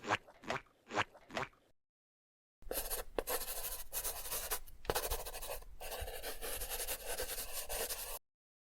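A marker squeaks and scratches across a whiteboard in steady strokes for several seconds, close and fairly clear, after a few brief knocks and a pause of silence.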